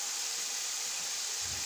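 Chicken frying in a pan sizzles loudly and steadily, close up, until vegetables are tipped in near the end, adding a brief thump and a fresh rush of hissing.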